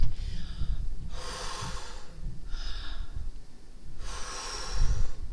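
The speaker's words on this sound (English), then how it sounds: "Slow and steady, deep breaths can really help your body kind of start to equalize" A person takes slow, deep breaths close to the microphone, with long airy inhales and exhales alternating in an even rhythm about every second or so, alone with no talking.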